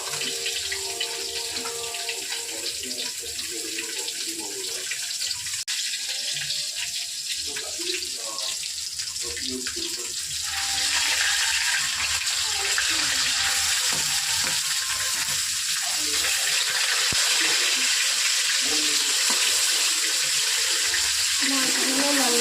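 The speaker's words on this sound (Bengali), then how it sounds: "মাছগুলো লাল লাল করে ভেজে নেব।" Fish frying in a pan until reddish-brown, a constant sizzling hiss that grows louder and brighter about halfway through, with occasional faint kitchen sounds and muffled voices underneath.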